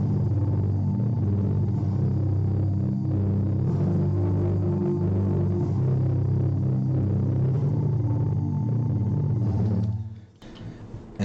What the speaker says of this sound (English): So I basically copied and pasted those chords, and then I just made it a different instrument. It's an choir synth.